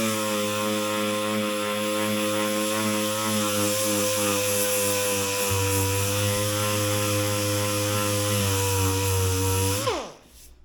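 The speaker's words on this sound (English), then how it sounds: "take my sander and sand away" A power sander runs steadily on a Big Dog motorcycle part, a loud constant motor drone with a shift in pitch midway before it spins down and cuts off at the end.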